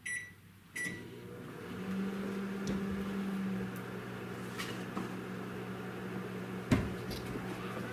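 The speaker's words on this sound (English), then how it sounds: "we're going to put it 45 seconds in the microwave" A microwave oven hums steadily after a door clunk, its low drone running throughout with a few small clicks and knocks nearby.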